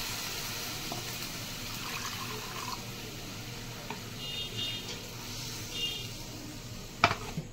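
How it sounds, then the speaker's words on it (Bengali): Milk and a little water go into a hot cooking pan, giving a soft, steady sizzle with faint liquid pouring and light stirring, quiet and close, ending in a few sharp clinks. "আমি ছোট দুধের প্যাকেটের 1 প্যাকেট দুধ আমি দিয়ে দিচ্ছি, আর সামান্য একটু জল দিয়ে দেবো"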